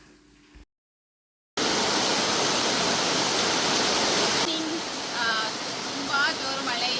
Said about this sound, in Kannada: ಜೋರು ಮಳೆ ಬರ್ತಾಯಿದೆ ಹೊರಗಡೆ.